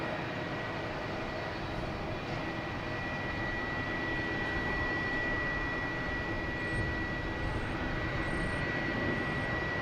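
A Japan Airlines jet arriving at Boston Logan Airport produces a constant, even engine rumble with faint steady whining tones, moderately distant and unbroken throughout.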